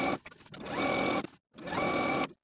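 A sewing machine edge stitching close to the inner fold of a dress hem: two sustained bursts of rapid stitching, close and loud, separated by a short pause.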